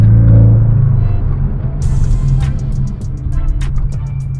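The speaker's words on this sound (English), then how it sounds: "then we'll do a hard brake" Car braking hard to a stop in an empty cul-de-sac, heard from inside as a loud low rumble that fades as the vehicle slows, followed by light rattles and clicks.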